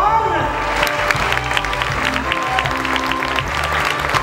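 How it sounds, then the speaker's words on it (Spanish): Audience applause from the crowd at a stage performance in Huauchinango, steady clapping under an amplified voice and some background music tones, continuous and fairly loud throughout. "un fuerte aplauso"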